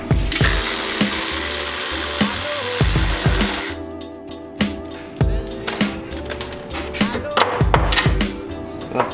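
Impact gun on a car's front suspension spinning off big coilover bolts during an Aerosport air bag install, a long loud buzzing whir followed by several short sharp bursts and clanks in a garage.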